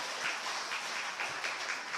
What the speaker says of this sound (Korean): 우리 격려의 박수 해도록 하겠습니다